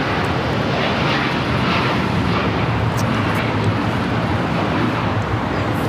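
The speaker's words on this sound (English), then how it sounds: "This is Japan Airlines Flight 69 taking off to Osaka on the 787-9 Dreamliner." A Japan Airlines Boeing 787-9 Dreamliner takes off at LAX, its engines giving a steady, loud broadband roar that holds constant throughout without pause.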